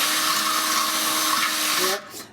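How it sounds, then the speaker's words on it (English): A power drill whines steadily while boring a hole in a Weber grill for a temperature probe, then cuts off abruptly near the end. "So what I did was take my drill,"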